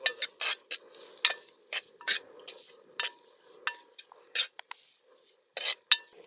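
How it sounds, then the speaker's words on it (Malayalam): A metal spoon stirs ginger-garlic paste as it sautés in a pan, making sharp irregular clinks and scrapes against the pan over a faint, soft sizzle, close and fairly quiet. "ചതച്ച് വെച്ച ഇഞ്ചി വെളുത്തുള്ളി പേസ്റ്റ് അത് നല്ലപോലെ പച്ചമണം മാറുന്ന വരെ നമുക്ക് നല്ലപോലെ ഒന്ന് വഴറ്റിയെടുക്കാം"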